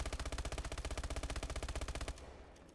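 Rapid automatic gunfire from the fastest-firing weapon in Call of Duty: Advanced Warfare zombies mode, a fast, even rattle of about 960 rounds per minute lasting two seconds before stopping, close but fairly quiet.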